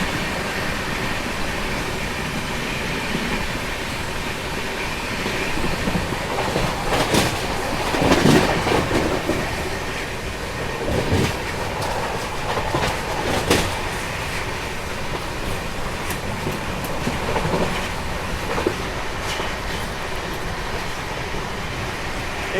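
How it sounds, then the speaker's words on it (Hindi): A passenger train runs steadily along the tracks from Ratlam toward Delhi via Kota on a winter evening, with a constant loud rumble of wheels and rail, scattered clicks and rattles, and no talking. "आप देखो बढ़िया एक जैसे रास्ता में अपनी ट्रेन भाग रही है"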